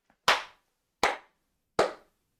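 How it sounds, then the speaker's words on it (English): Three sharp hand claps spaced roughly three-quarters of a second apart, close and loud against silence, during commentary on a Football Manager 2022 Manchester United match. "Sorry for the clapping if it's annoyed your ears."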